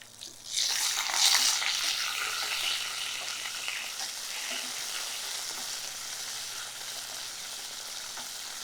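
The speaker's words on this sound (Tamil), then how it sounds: "தீயை நிதானமாக வச்சு இதை வறுக்கணும்." Grated ginger and curry leaves fry over a low flame for ginger puliyotharai, a steady close sizzle that flares after a soft start and then holds at an even level on its own, with no talking.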